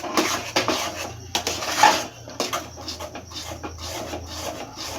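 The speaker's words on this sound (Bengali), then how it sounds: "এবার আমাকে এটা আবার নেড়ে দিতে হবে" A spoon or wooden stick scrapes and knocks against a pot while bael fruit pickle is stirred, giving irregular rubbing strokes and clanks close by, with no voices.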